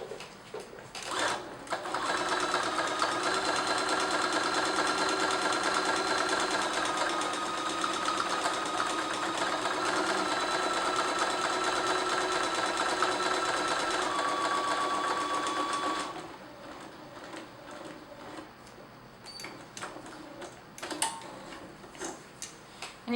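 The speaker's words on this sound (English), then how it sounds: "I'm going to use my buttonhole foot here, and then this is set to automatically stop when my buttonhole is finished." A sewing machine fitted with a buttonhole foot stitches an automatic buttonhole in one loud, even, sustained run before stopping, followed by quieter handling sounds.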